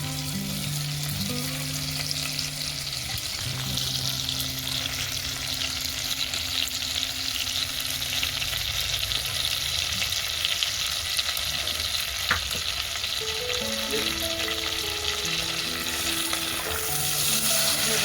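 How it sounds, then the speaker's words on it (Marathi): Whole spices frying in hot oil in a pan for matar paneer, a steady bright sizzle with occasional stirring clinks, close and continuous, under soft background music with no talking. "मसाले आपण छान फ्राय करून घेणार आहोत आधी"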